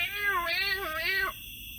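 A cat meows twice in quick succession, loud and close, each call rising and falling in a drawn-out wavering cry before cutting off into quiet room tone.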